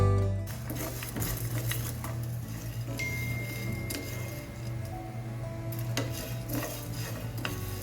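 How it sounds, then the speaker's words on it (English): Whole peppercorns and masala spices dry-roasting in a pan for mutton pepper fry, a steady stream of light metallic scrapes and ticking clinks from continuous stirring over a low background hum. "Now roast these masalas for 2 to 3 minutes until the flavor starts to release."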